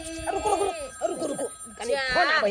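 A mobile phone rings in a rural Hindi comedy scene, a repeating electronic ringtone heard in short bursts alongside people talking.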